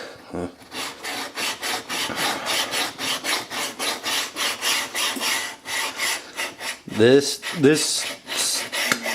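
Rhythmic rasping strokes of a stone rubbed back and forth over a milling machine's metal T-slot plate, steady and close, with a few brief clanks near the end.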